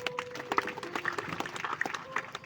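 Audience at a devotional satsang gathering claps along, a loose patter of many hands at close to moderate distance, uneven and scattered rather than a full ovation, with a faint voice briefly underneath.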